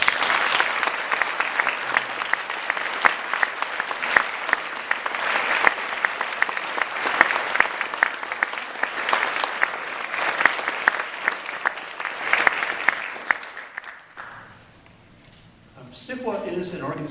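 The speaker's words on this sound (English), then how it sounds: "instead of a moment of silence, let's have a round of applause" Audience at the 2011 Nebula Awards ceremony gives a long, sustained round of applause in place of a moment of silence, dense clapping fading out near the end before a voice resumes.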